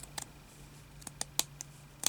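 Scissors snip fabric for a small thimble bag, a handful of quiet, sharp, separate cuts spaced irregularly, close but faint against a soft room background.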